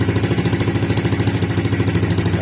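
A Honda RS150 motorcycle engine idles close by with a loud, steady, rhythmic low-pitched putter of regular pulses throughout.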